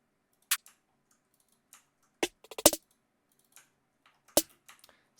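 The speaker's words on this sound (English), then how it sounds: "We have a few snare patterns, which sound a bit like this." Sparse snare hits from a produced beat, a handful of sharp, dry cracks spaced irregularly with short gaps of silence between them, fairly quiet overall.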